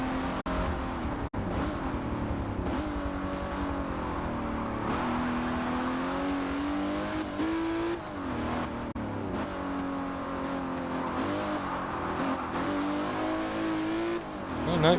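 Aston Martin DBR1 classic race car in Forza lapping the full Nordschleife, its engine revving hard and continuously, pitch rising through the gears with shifts and brief lifts, loud and close throughout.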